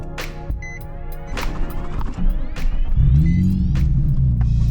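A 2006 Nissan 350Z out on a cruise, heard from inside as a loud, steady engine rumble whose tone climbs as it accelerates, with a few short electronic beeps overhead.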